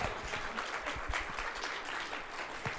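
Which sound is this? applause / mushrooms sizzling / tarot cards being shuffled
applause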